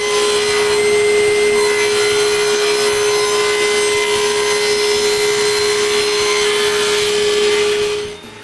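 A power saw rips through glued-up wooden panels, cutting them in two, a loud steady whine with a constant tone that runs without a break for about eight seconds before trailing off.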